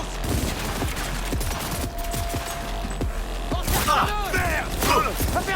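Rapid bursts of automatic gunfire in the video game Cyberpunk 2077, dense overlapping shots with mechanical clatter and sharp impact cracks, loud and continuous, with shouting voices in the mix.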